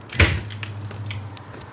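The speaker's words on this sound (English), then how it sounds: "The door opens." A single sharp knock and clatter as a door or latch swings open, followed by a short low rumble and faint rustling.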